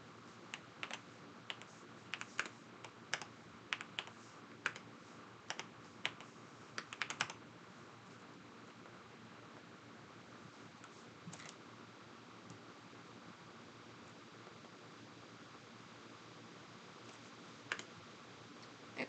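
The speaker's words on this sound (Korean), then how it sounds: "다시 차분히 지우고 여기서부터 써볼게요." Code being typed on a computer keyboard while refactoring an Android app with Jetpack Compose: quiet, close key clicks in uneven bursts, dense at first and then sparse, over a soft steady room hiss.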